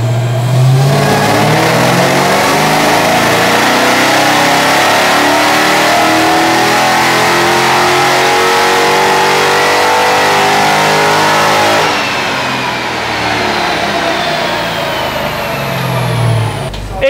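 A supercharged Mercedes-AMG GT S V8 on a dyno winds up in one long, loud, rising rev, then drops off and settles near the end.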